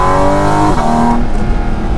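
Engine and exhaust of a Porsche 718 Cayman GT4 RS Weissach, loud and close, holding a steady high-revving note before the pitch drops as revs fall away, no voices present.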